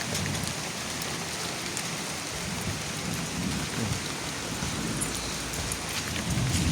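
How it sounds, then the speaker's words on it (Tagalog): Steady heavy rain hissing and pattering on surfaces including a metal roof sheet, with a low rumble underneath, continuous throughout and no voices. "Ulan."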